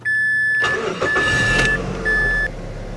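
A car engine cranks over during a battery cranking test, loud whirring bursts with a brief gap, while a high electronic tone from a battery tester beeps on and off.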